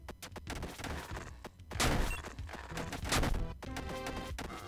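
Explosions in the video game Demon's Tier+ go off in quick succession, bursting repeatedly in dense, fairly faint booms and crackles.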